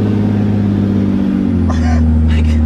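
The heavy MONSTERMAX truck's engine drones and revs while pulling a heavy trailer, a loud low rumbling hum that deepens midway, with someone talking over it.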